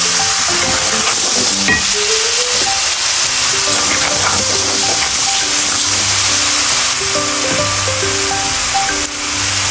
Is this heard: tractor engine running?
no